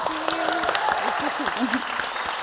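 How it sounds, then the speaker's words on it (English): An audience at a live beauty show gives a round of applause, with dense, even clapping throughout while a voice speaks briefly over it. "Let's give them a round of applause."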